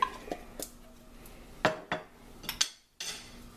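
A spoon stirs minced garlic into a pot of vegetable stew with a string of sharp metallic clinks and scrapes against the pot at an uneven pace, close by and without any talking.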